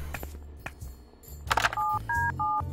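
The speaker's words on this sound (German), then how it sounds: "Telefon." A telephone is dialed after a few clicks and rustles, with a run of distinct touch-tone beeps of varying pitch following one another closely and loudly, with no talking.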